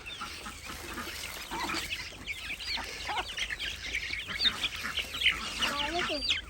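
Native country chickens and ducks cluck and chatter while being fed tapioca scraps, wheat and coconut cake, a busy cluster of short overlapping calls close by, with a person talking among them.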